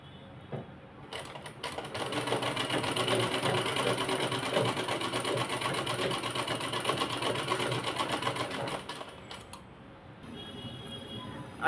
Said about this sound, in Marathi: आता आपण याला शिलाई देऊन घेऊयात.